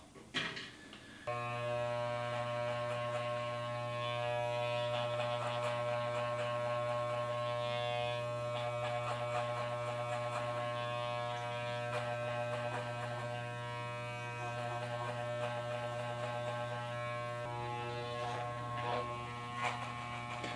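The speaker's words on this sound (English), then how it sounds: "just kind of pricking with the clippers as opposed to a nice even" Electric hair clippers with the guard removed buzz with a constant mains-like hum as they cut hair. The close, steady drone starts after a short pause and shows faint clicks and rustles.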